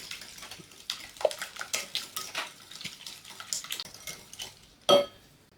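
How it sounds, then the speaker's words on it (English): Coconut yogurt and eggs are mixed in a bowl: a run of quick, fairly faint scraping and tapping strokes from a utensil against the bowl, ending with one louder clink, with no voices. "I'll first mix the coconut yogurt and the eggs."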